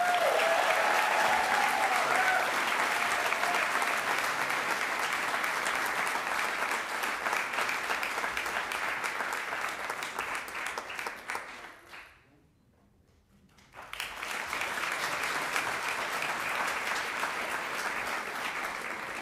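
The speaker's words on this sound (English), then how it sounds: "Please join me in a round of applause for the Hub." An audience applauds at a city volunteer recognition ceremony, with steady, full clapping that breaks off briefly into near silence before another strong round resumes.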